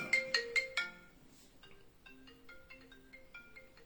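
A phone ringtone plays a short electronic melody, starting with a few strong bright tones and then running on in a softer repeating pattern, fairly faint and alone.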